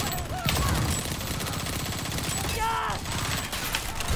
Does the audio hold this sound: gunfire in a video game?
yes